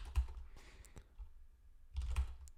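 Computer keyboard keys clicking during Linux command-line use: a few soft, close taps at the start, a pause, then another small cluster of key presses near the end, quiet and without talk.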